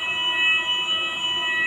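An alarm sounds inside a Tesco supermarket: a steady, loud electronic tone with multiple sustained high pitches that continues without a break and with no talk over it.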